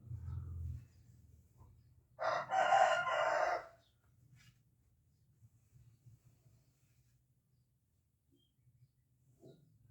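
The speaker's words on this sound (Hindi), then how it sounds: "वो खुद आवाजें देने लग जाते हैं। हमारा मुर्गा बहुत सियाना है।" A rooster crows once at moderate distance, a loud drawn-out call over a quiet household background with faint low hum.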